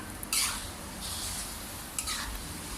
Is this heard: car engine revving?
no